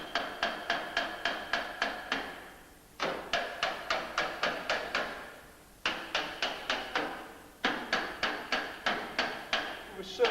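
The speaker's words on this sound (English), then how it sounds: "So we just tap it on gently." Light, evenly spaced taps knock a steel car bonnet stiffening part into place, coming in quick bursts of six or seven taps separated by short pauses, close and fairly quiet.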